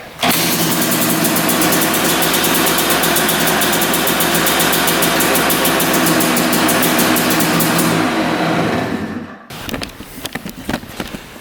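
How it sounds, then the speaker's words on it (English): A cold two-stroke motorbike engine, choke on, is kick-started and catches at once, running loud and close at a steady buzzing idle for several seconds before it cuts out abruptly, leaving faint rustling and clicks. "We're gonna put the choke on. I'm gonna give her a kick."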